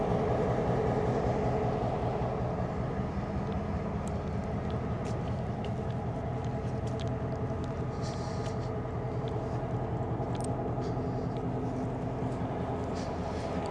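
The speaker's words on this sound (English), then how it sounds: "there goes a locomotive over here. It's actually powered up. It's on the Kansas City Southern line." Powered-up diesel locomotive on the Kansas City Southern line rumbling past the railroad museum in downtown Corinth, Mississippi, a steady low droning engine throughout with faint clicks and clanks, heard from a moderate distance.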